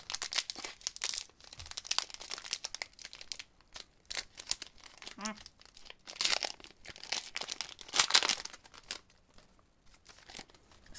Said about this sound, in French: C'est vraiment du papier mâché